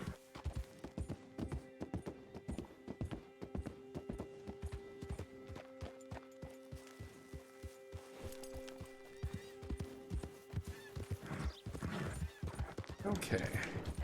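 Horse hooves clip-clop in a steady, quick rhythm in the Red Dead Redemption 2 video game, close and clear, with a brief whinny and faint game sounds mixed in.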